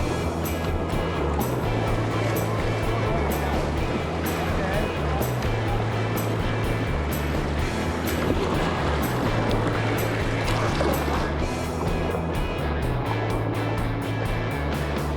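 Raft moving through river rapids on the Klamath River, with steady loud rushing water and splashing throughout, while people talk over it.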